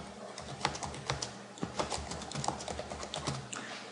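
Fingers typing a note into a web timesheet on a computer keyboard, a close, quick patter of uneven key clicks with brief pauses between bursts.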